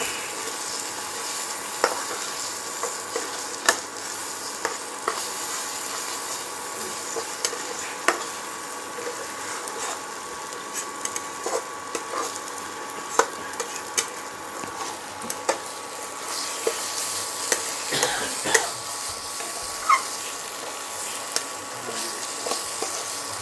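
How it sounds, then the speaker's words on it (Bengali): Ridge gourd paste frying in a pan, a soft continuous sizzle under intermittent scraping and tapping of a spatula as the paste is stirred, with no talk. "আর একটু নাড়াচাড়া করে একে নামিয়ে নেব।"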